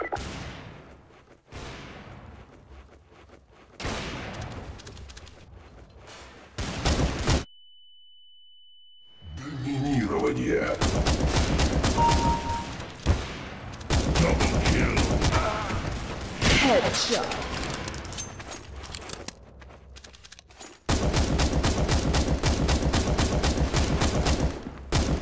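Gunfire in Counter-Strike: Source comes in loud, rapid bursts of shots with sharp cracks, broken by a brief gap holding a steady electronic tone, while voices talk between the volleys.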